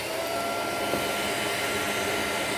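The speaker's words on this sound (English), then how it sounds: "let's go ahead and hear a refurbished Shark Navigator Deluxe" A refurbished Shark Navigator Deluxe upright vacuum cleaner runs with a loud, steady whirring roar, close and unbroken for the whole short stretch.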